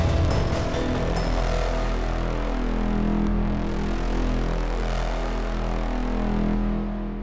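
A dense, heavy synth bass drones continuously, thick and rumbling with a gritty, slowly shifting texture, loud and unbroken.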